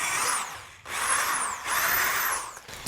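A power drill whines as it bores through pallet wood while a bench is being rebuilt, in three rising bursts separated by brief pauses, close and fairly loud.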